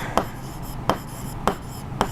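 Chalk tapping and scraping across a classroom board as a teacher writes a word during a primary-school maths lesson, four short crisp strokes spaced at an even rhythm, close and clear with no talking.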